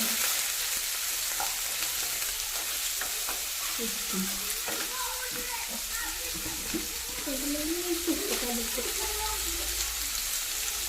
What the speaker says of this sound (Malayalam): ഒരു സവോള ഒരു തക്കാളി അത് നല്ലോണം വാടി കിട്ടട്ടെ